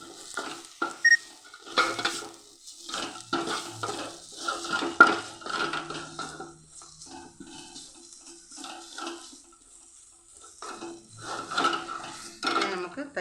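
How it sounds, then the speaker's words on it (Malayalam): A spoon stirs a potato and green pea curry in a pan, making intermittent scraping and clinking strokes with a faint sizzle; speech-like sounds come and go between the strokes, and there are quiet pauses. "അങ്ങനെ ഇതെല്ലാം ഒന്ന് നന്നായി ഇളക്കി കൊടുക്കാം"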